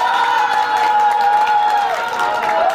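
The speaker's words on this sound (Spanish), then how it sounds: "¡Fuerte el aplauso para Cecilia!" Studio audience on a Latin television talent show cheers and claps for a contestant, a steady crowd roar with whoops and a high sustained shout riding over scattered applause.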